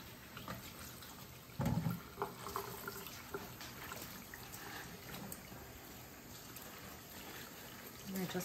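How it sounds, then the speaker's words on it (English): Cool tap water runs over dyed fabric being rinsed, a soft continuous splashing and trickling with a brief louder gush, quiet and close. "All right, so now I'm going to rinse. And I'm using cool water."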